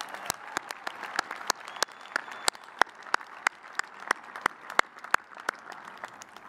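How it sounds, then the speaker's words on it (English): Audience applause at an outdoor evening graduation convocation for a College of Agriculture and Life Sciences and College of Education. Crisp, evenly spaced claps ring out about three times a second over a soft crowd murmur, holding steady throughout. "I think that deserves a round of applause"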